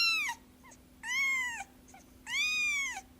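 A kitten named Corn yelling in repeated loud, close meows, three drawn-out cries separated by short pauses with a faint sneeze-like or cough-like noise between them, over a low steady hum.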